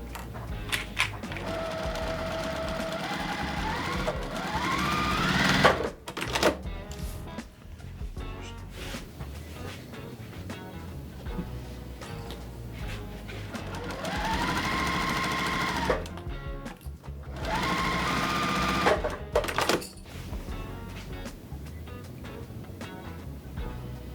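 Sewing machine stitching quilt pieces together, running in long bursts of steady rapid whirring with brief pauses between seams, close and loud with no talking.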